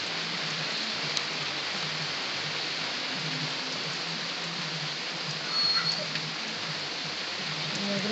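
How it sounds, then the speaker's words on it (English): Hail falls during a thunderstorm, a dense, steady patter of stones striking surfaces that holds evenly throughout, with a slight swell partway through. "it's even hailing"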